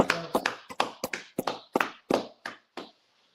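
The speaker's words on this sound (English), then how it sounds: "Clap it up." A small group claps in unison as a salute, about a dozen sharp, evenly spaced claps in a steady rhythm that speeds slightly and then stops, close and clear with no talking.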